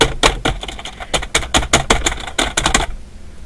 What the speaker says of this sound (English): I'm just going to smash onto the keyboard.